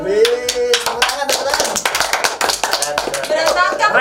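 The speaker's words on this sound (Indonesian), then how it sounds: "tepuk tangan" A few people clap their hands in quick, uneven bursts close by, with voices talking over and between the claps.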